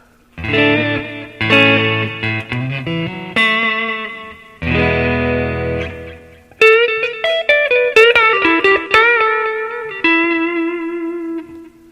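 Clean electric guitar on the neck pickup of a Frank Stallone Tigris, run through a Blues Cube amp with echo: ringing chords and single notes with repeats trailing behind, played alone at close range.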